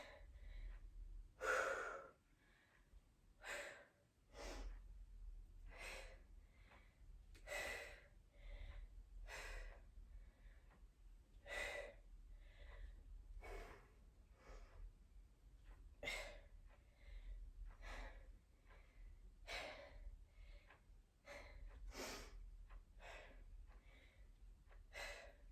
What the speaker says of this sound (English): so you don't have to listen to me breathing